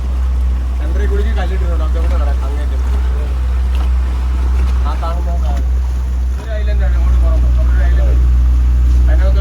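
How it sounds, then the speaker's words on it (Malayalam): A steady low boat engine drone runs throughout, with people talking over it and some wind noise, on a boat trip past Thanneermukkam Bund near Cherthala. "ചേർത്തല തണ്ണീർമുക്കം ബണ്ട് വഴി ഒരു ബോട്ട് യാത്ര നടത്തിക്കൊണ്ടിരിക്കുകയാണ്"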